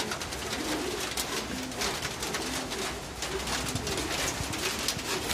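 Pigeons cooing steadily in repeated soft calls during heavy rain, the coos layered over a constant dense hiss of rainfall.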